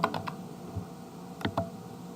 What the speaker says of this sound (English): Here you will type again the receipt number that you have retrieved before.